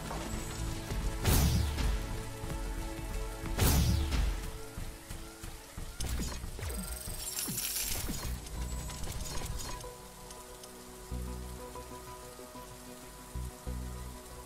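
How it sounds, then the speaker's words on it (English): Rain pours steadily in The Riftbreaker, a dense hiss of drops on surfaces broken by a few loud crashing bursts and clattering impacts, easing somewhat toward the end. "The rain is over."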